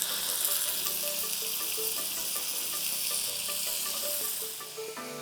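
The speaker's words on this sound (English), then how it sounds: "caramelize our tofu" Tofu caramelizing in maple syrup in a hot wok gives off a steady, dense sizzle that holds strong from start to finish, with small pops and crackles scattered through it and no voices.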